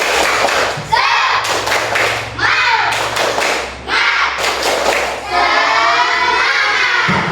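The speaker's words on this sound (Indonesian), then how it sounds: "Tepuk semangat." Schoolchildren in a classroom perform a loud rhythmic clapping chant, tepuk semangat, with bursts of claps and shouted group vocals in repeated phrases, pausing briefly between sections.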